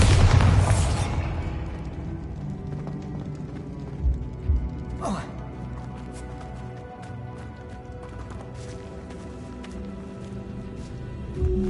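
Bombarda spell blast in Hogwarts Legacy: a loud burst at the start that fades into a rumbling tail, followed by a few softer thuds and a sharp magical whoosh midway over quiet game ambience.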